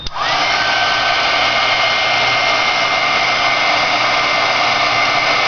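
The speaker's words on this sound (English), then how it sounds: "I'm going to use my heat gun to dry" A heat gun blows hot air to dry ink on a rubber stamp for craft cards, switching on abruptly and then holding a loud, steady whooshing roar throughout.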